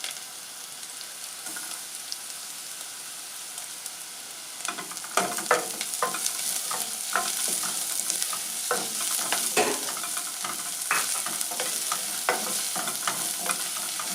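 Garlic fries in a pan with cabbage. A soft background hiss gives way, about a third of the way in, to a louder, crackling sizzle broken by repeated scraping stirs and clinks close by.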